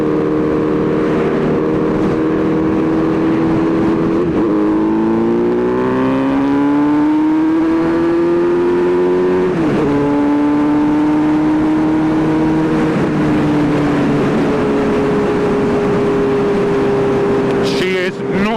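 A Kawasaki Z900RS motorcycle with a full titanium race exhaust is ridden, its loud engine rising and falling through the gears in a close, continuous drone and roar.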